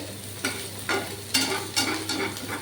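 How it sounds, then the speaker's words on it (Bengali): Onions frying in oil in a pan over high flame, a soft steady sizzle broken by several scraping stirs of the spatula at roughly even intervals, close and fairly quiet, with no voice. "এই দেখো সুন্দর করে পেঁয়াজটা আমার ভাজা ভাজা হয়ে যাচ্ছে"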